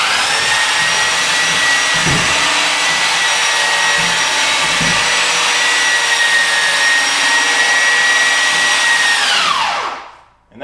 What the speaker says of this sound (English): then we just squeeze the trigger on the Pullzall.